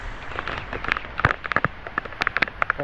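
Heavy rain pattering on a surface outdoors, a dense spread of sharp, irregular drops and splashes, fairly close and moderately loud, with no talking.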